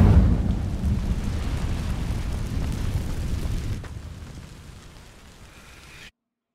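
A fire spell ignites dry vines in Hogwarts Legacy, giving a loud whooshing roar of flames that rises and then settles into a softer crackling rumble before cutting off.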